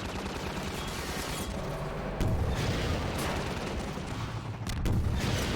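Heavy, sustained gunfire and blasts fill a Half-Life 2 firefight on Highway 17, with dense rapid shots and booming explosions continuing without a break.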